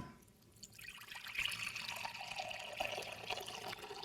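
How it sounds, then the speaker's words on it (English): Excess water poured off a pot of cooked potatoes in a kitchen: a steady, fairly soft splashing stream that runs unbroken for several seconds, with no talking. "I'm going to go ahead and pour off the excess water"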